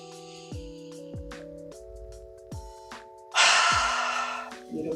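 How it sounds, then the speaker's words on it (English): One loud, deep breath during an at-home yoga workout rushes in over soft, sustained background music, swelling and fading for about a second. "All together, inhale, exhale."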